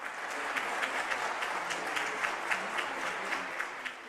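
Steady applause from a crowd at the Mexican Stock Exchange, dense even clapping holding at a constant level throughout with faint accents.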